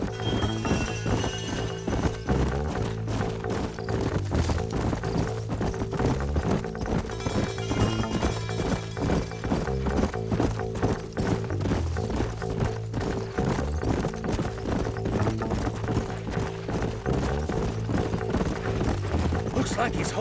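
Horses gallop in the video game Red Dead Redemption with a constant rhythmic clip-clop of hooves and an occasional whinny, set under a steady musical score with voices talking over it.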